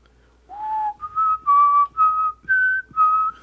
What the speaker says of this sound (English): Can you whistle like the theme from X-Files?